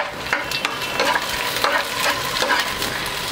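Long-cut green chillies sauté in a pan for Hyderabadi Apollo fish fry, giving a steady, loud sizzle with an irregular scraping stir running through it.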